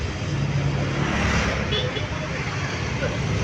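Busy road traffic in Embacalso, Philippines, near a terminal: a steady, dense rumble of vehicles close by, with someone talking over it.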